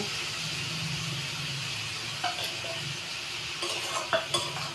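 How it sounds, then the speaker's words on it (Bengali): Mutton frying with ginger-garlic paste, salt, turmeric and Kashmiri chilli powder, a steady hissing sizzle with a few sharp spoon-on-pan knocks near the end. "এবার আমি সুন্দর করে কষে নেবো"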